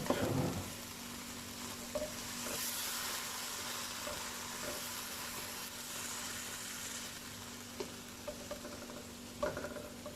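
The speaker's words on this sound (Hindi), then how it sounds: "अब हम इसमें चिकन डालेंगे। चिकन को अब हमने भूनना है इसके अंदर ताकि ये अच्छा सा गल जाए" Steady sizzling of chicken frying in a hot pan with garlic and ginger for chow mein, close by, with occasional light scraping and clinks of stirring throughout.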